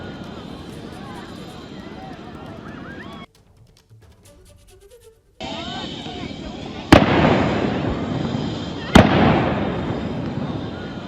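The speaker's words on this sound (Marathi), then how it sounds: "गोळीबाराचा तोच भीतीदायक आवाज आणि त्याच्यानंतर हृदय टाकणाऱ्या किंकाळ्या या व्हिडिओमध्ये सुद्धा ऐकायला" Gunfire in recorded footage of an attack: two sharp, loud shots ring out several seconds apart over dense background noise, after a brief near-silent gap.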